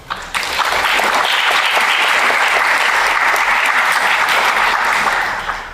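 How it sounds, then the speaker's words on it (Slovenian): Sustained audience applause fills a public discussion hall, a dense even clatter of many hands clapping close by for several seconds before tapering at the end. "tole si zasluži en aplavz"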